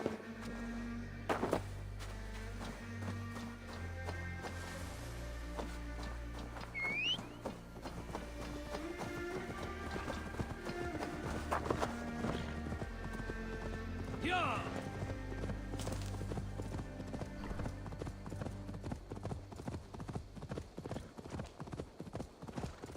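Horse hooves clip-clop steadily in Assassin's Creed Valhalla, a continuous rhythmic run of hoofbeats over a low rumble of movement, with an occasional whinny and faint background sounds throughout the stretch.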